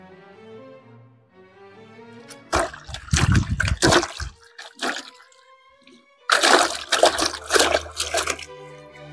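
Water rushes through a pipe connector into a bundle of Holi water balloons, heard as two loud, hissing bursts of flow over steady background music.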